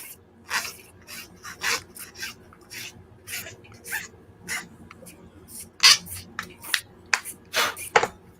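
Sanding a robot frame part at a workbench, with a steady series of short abrasive rasping strokes, some louder and quicker toward the end, heard up close and alone.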